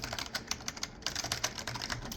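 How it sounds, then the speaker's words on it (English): Fingers type on an Acer 6511 keyboard with dome-with-slider switches and a firm bottom-out, producing a quick, close, uneven run of light clacking keystrokes with no talk. "When I was typing on this thing, I noticed that the bottom out, it's a little bit too hard"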